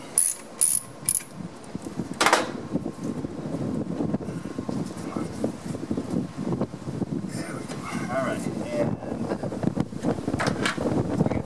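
Ratchet working on the belts of a GM 6.2L diesel engine in a squarebody K10 Suburban, quick bursts of clicking early on followed by quieter intermittent clicks over steady wind noise outdoors.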